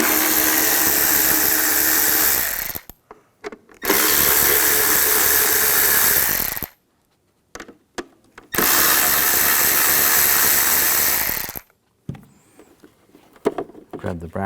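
A power driver with a T15 socket backs screws out of a bracket on a 2015-2020 Cadillac Escalade radio control unit, three sustained whirring bursts of a few seconds each separated by short pauses.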